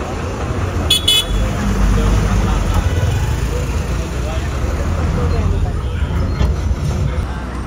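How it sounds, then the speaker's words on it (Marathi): A bus pulling out of the Sangameshwar bus depot, with a steady low engine rumble and road noise throughout, a couple of short horn toots near the start and end, and background crowd babble. "गाडी असं निघाली आहे संगमेश्वर बस डेपोमधून."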